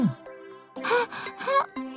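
A cartoon character voices heavy, panting breaths after running too much, made up of a few breathy gasps and moans in quick succession, close and clear.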